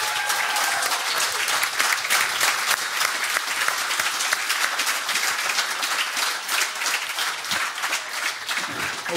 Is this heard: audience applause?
yes